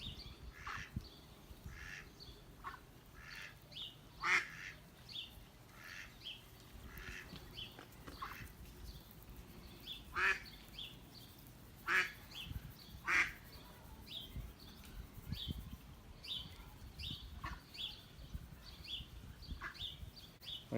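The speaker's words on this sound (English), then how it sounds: "I guess you can hear the birds and the ducks in the background." Ducks quack in scattered outdoor bursts at moderate distance, mixed with other birds calling over a low ambient background, with no voices.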